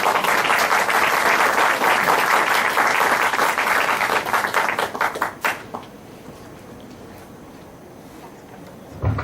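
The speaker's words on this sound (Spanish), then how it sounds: "Un fuerte aplauso para nuestro conferencista." Audience applause for a speaker at a philosophy and science seminar: dense, loud clapping from a room full of people that holds steady for about five seconds, then thins to a few scattered claps and dies away into quiet room noise.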